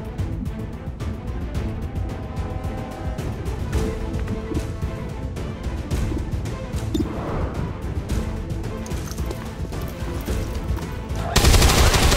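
Rapid automatic gunfire in the tactical game XCOM 2: War of the Chosen, a continuous dense rattle of shots at a steady level, ending in a louder burst.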